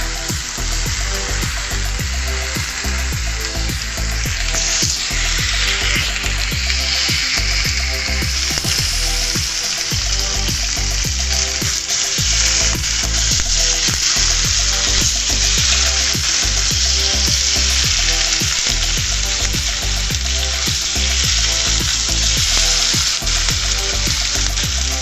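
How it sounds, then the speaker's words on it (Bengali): Paneer pieces fry in hot oil with a steady, dense sizzle that runs close and loud throughout, with occasional stirring clatter and no talk. "পনিরের টুকরোগুলোকে হালকা করে তেলে ভেজে নেবে।"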